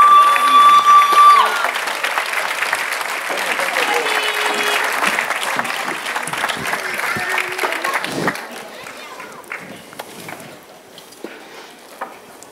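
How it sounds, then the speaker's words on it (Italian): Theatre audience applauds the cast of the comic play "Nu maritu pi la bella ri papà" by the company U Comicu, with dense sustained clapping and a stray whistle early on that thins out into scattered claps. "Applausi meritatissimi ai personaggi dello spettacolo."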